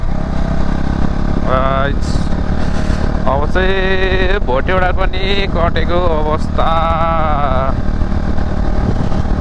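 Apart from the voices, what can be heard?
motorcycle riding on paved road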